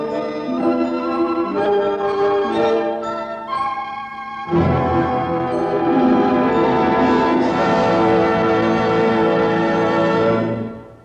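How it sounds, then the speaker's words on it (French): Temple bells chime in overlapping, ringing tones, a sustained resonant peal that continues and slowly fades at the end. "son attention fût attirée par le carillon des cloches d'un temple"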